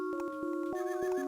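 A horse neighs in the Barbie Horse Adventures: Blue Ribbon Race Game Boy Advance game, in steady synthesized tones over a game music loop, with short repeated notes and a few clip-clop beats.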